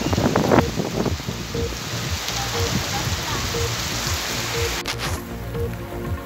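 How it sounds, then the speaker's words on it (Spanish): Heavy rain pours steadily during Hurricane Iota, with gusting wind roaring throughout, a dense continuous wash of downpour close by and a brief louder burst near the start. "aquí está comenzando fuertísima la llovedera y el huracán"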